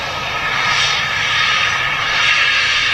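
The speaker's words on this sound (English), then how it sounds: "The BizJet just taxiing in." Business jet taxiing in at Manchester Airport, a loud, steady engine whine and rush that rises and falls gently, heard from nearby with no voices over it.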